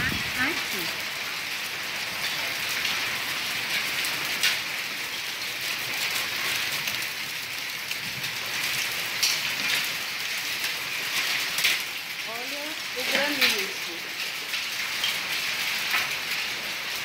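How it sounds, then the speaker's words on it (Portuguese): Hail patters steadily across a garden and nearby surfaces in a dense, continuous hiss of small impacts, with a few brief louder hits and faint voices in the background. "Olha a chuva de gelo que tá caindo."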